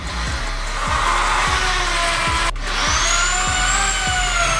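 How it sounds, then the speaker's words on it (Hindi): Plastic wall plugs are tapped into drilled wall holes with the small hammer of a multi-tool, giving a series of regular sharp knocks about every half second over a steady background hum. "ये मेरे पास एक मल्टी टूल है जिसमें एक छोटा हैमर है, तो इसकी मदद से मैं उन प्लास्टिक वालों को प्रॉपर ठोक के अंदर कर दूंगा"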